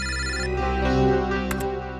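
A phone's electronic ringtone sounds in a CID crime drama scene, a sustained tonal melody with short bright blips near the end, loud and alone without speech.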